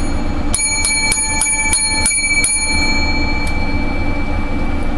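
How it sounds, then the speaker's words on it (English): Seven small bells ring in quick succession, each strike leaving a bright, sustained metallic tone that lingers and overlaps the next, loud and close, followed by the fading ring with no voices. "Lucky seven bells for our show."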